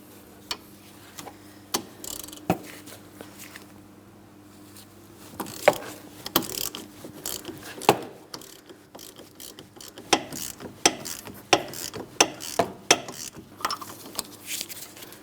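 An 18 mm socket on a ratchet works a rear wheel bearing hub mounting bolt on a 2003-2007 Cadillac CTS, giving close, repeated ratchet clicks and sharp metallic ticks that come faster and louder toward the end.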